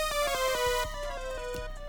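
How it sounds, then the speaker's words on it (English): An airy, breathy synth lead from the Purity plugin plays a short melodic line over a soft beat with low kick thumps, made in FL Studio. "Kind of airy, but I feel like this also has that synthy quality that could match this melody really nicely"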